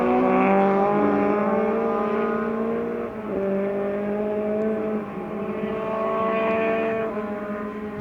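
A small 1,000-pound Lotus production race car with a 125 brake horsepower four-cylinder engine, held at a steady high-revving drone with a brief gear change midway on the Sonoma racetrack, loud and close.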